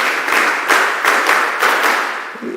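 A group of people claps together at a mentorship session, a fairly loud, close burst of applause with a loose rhythm of repeated clap peaks that carries on throughout.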